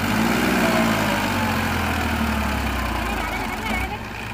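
A tractor pulling a cultivator runs with a steady, heavy rumble that rises into a throaty rev, loud and close throughout, easing slightly near the end while people speak over it.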